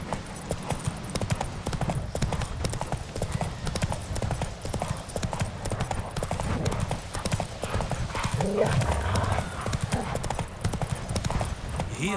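Roach, the horse in the video game Witcher 3, galloping with rapid rhythmic hoofbeats that continue steadily, close and loud, with a brief whinny partway through and a voice speaking over the running.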